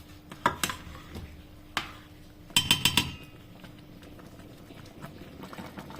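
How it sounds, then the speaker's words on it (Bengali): Pilaf rice being stirred in a rice cooker pot with a utensil gives sharp metallic clinks and scrapes, a few isolated taps and then a quick cluster of knocks against the pot, close and fairly quiet. "এখন আমি ভালোভাবে নাড়িয়ে দেব।"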